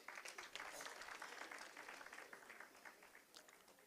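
Quiet, distant applause from a crowd at a SADTU Gauteng provincial general council meeting, steady clapping that gradually thins out over a few seconds.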